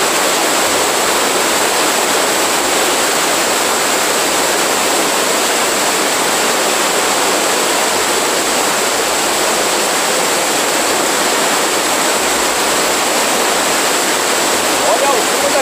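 Strong river rapids and the Cachoeira dos Prettos waterfall in Joanópolis pour in a loud, steady, unbroken roar of rushing water that fills the whole scene from start to finish.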